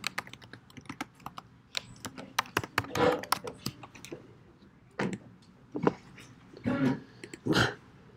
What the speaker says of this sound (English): Then you have to type in your name.